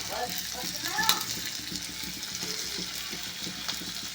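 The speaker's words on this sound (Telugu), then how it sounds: "ఉల్లిపాయలు వేసుకున్నాం కదా ఇవి కూడా ఫ్రై చేసుకోవాలి" Onions frying in a pan with prawns and a little mango, a continuous close sizzle with light stirring scrapes throughout and no one speaking.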